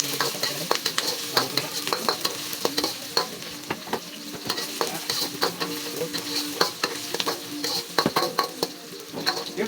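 Carrots and onions sautéing for Filipino pochero, a steady close sizzle broken by frequent sharp scrapes and clinks of a utensil stirring the pan, with no talking.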